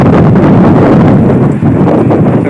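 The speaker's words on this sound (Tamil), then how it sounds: "காற்றும் ஓவராக இருக்குது, காற்று அதிகமாக இருக்குது" Strong wind roars and buffets the microphone without a break during a heavy sandstorm in Kuwait, loud and close, with no voices over it.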